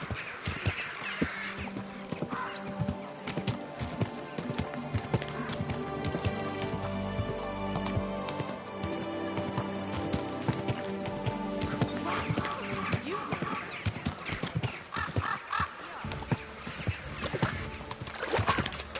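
Steady clip-clop of horse hooves in Kingdom Come: Deliverance II on PS5 Pro, over dense game music and ambient noise, with a brief whinny-like sound, continuing throughout.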